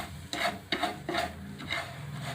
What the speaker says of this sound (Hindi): इसी तरह आपने चम्मच हिलाते जाना है।